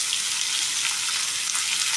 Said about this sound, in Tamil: இப்போ இந்த மாங்காயும் இதில் தள்ளிடு நல்லா வதக்கிடுவோம்